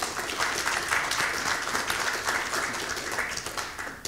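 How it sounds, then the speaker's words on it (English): Steady audience applause at an evening literary festival event honoring Desmond Egan, a sustained wash of clapping that holds evenly and tapers slightly at the end. "they deserve a round of applause for that"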